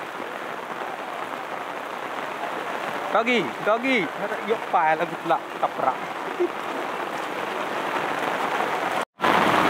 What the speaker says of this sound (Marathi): सकाळपासून पाऊस पडतं